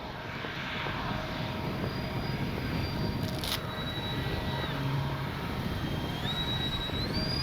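An FMS 70mm electric ducted-fan RC A-10 Thunderbolt II jet makes a low gear-down pass, a steady loud whooshing whine that holds throughout with slight pitch shifts as it goes by.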